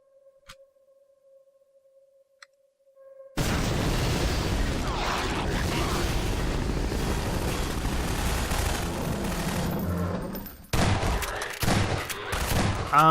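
Sustained bursts of enemy gunfire in the Bridgeville video game, loud and dense for several seconds after a quiet start, then breaking into scattered shots.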